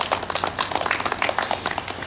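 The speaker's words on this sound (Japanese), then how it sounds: "はい、拍手お願いします。" Audience applause at a bass fishing tournament weigh-in, a dense, continuous patter of many hands clapping at moderate distance for the whole stretch, with a faint voice underneath.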